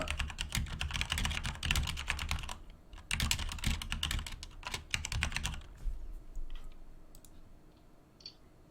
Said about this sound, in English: it just sounds like that because this keyboard makes these like loud noises.